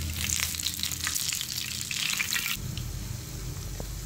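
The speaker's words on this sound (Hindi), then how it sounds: "अब मैं दूसरी साइड को भी 2 मिनट पकाऊंगी" Gram flour (besan) coated masala fish frying in hot oil as the second side cooks: a loud, steady, close hiss of sizzling that turns into a lower, softer bubbling crackle partway through.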